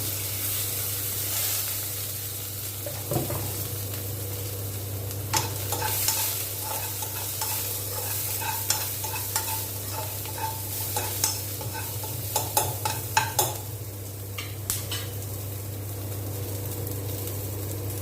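Onion and curry leaves frying in a pan for a white sorghum sundal, a steady sizzle under scattered spoon-stirring clicks and scrapes that cluster toward the end, close up with no talking.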